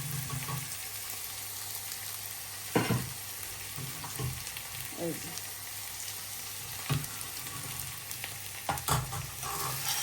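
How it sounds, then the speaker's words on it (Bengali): Onions and dried fish fry in a pan with a steady low sizzle, broken by several sharp stirring scrapes; a voice speaks briefly. "পেঁয়াজটা একটু ভাজা হইলে এই সবজিটা দিয়ে দিব।"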